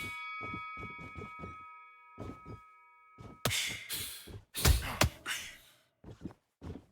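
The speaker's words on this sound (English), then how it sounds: "there's the bell to start round 2" A boxing bell rings to open a round in a PC boxing video game, its sustained metallic tones under a series of short pulses, followed by louder noisy bursts of game sound.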